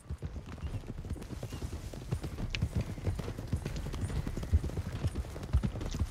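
Several horses gallop off together in Red Dead Redemption 2, a dense, continuous clatter of hooves that stays close and loud for the whole stretch, with faint voices beneath.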